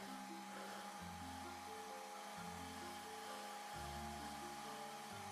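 A hair dryer drones continuously close by, drying hair, its steady hum shifting in pitch every second or so as it moves around the head.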